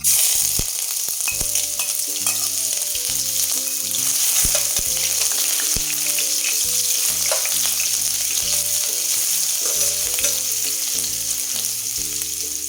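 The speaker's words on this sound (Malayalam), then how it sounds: "ഇപ്പോൾ ചതച്ചെടുത്ത കാരണം കൊണ്ട് ഇത് ആദ്യം ഓയിലിലേക്ക് ഡയറക്റ്റ് ഇടുകയാണ്" Crushed ginger and garlic fry in hot oil in a heavy pan over a medium flame for chana masala, making a loud, steady sizzle with crackles under background music.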